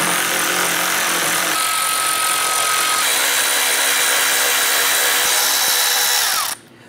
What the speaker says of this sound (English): I'm going to remove our four 10 millimeter screws across the top of our grill using a 10 millimeter socket